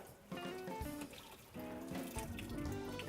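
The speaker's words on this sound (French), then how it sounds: "L'eau de l'ail a bouilli pour la troisième fois. On enlève encore une fois l'eau." Boiled garlic water poured off into a sink, a steady splashing pour and running water with shifting gurgles, close and fairly loud, no talk.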